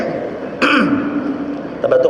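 A man clears his throat once, loud and close, during an Islamic religious lecture, with a short rough burst and then a trailing rasp, under a faint room hum.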